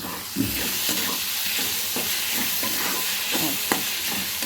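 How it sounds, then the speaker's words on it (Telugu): Onions soften in a covered pan for a drumstick pulusu, giving a steady close sizzle and hiss of frying with faint stirring taps underneath, continuous and fairly loud, with no talk. "మూత పెట్టి మగ్గిస్తున్నా చూసారా ఎంత చక్కగా మగ్గుతున్నాయో ఉల్లిపాయలు ఇలా"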